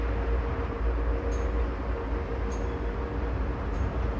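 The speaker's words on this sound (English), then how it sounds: "watch the train go through" A steady low rumble of a BNSF train rolling past at some distance, with faint periodic squeaks every second or so.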